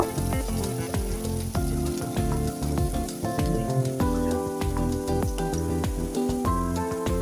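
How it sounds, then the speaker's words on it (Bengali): Onions frying in a pan being lightly browned for a koi fish and potato curry, with a loud, close, continuous crackling sizzle and spattering throughout; no talk. "পেঁয়াজটাকে হালকা নেড়ে ছেড়ে কিছুক্ষণ লালচে কালার করে ভেজে নেব"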